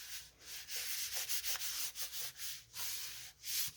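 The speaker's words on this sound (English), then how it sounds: "we're gonna place it on top and then press firmly." Paper shaker piece pressed firmly onto a Stampin' Up! card, giving a steady series of soft, close rubbing and sanding strokes with a rhythmic rise and fall, no talking.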